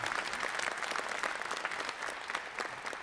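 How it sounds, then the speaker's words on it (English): A seated convention audience applauds the guest actors at a Toulouse game show panel, a dense, steady wash of many hands clapping at moderate distance, with no pauses and no speech. "On peut les applaudir."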